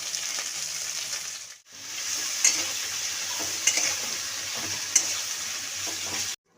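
Eggplant pieces fry in oil in a wok, a steady close sizzle broken by a brief near-silent gap, with a few sharp clinks of a utensil against the pan before stopping abruptly.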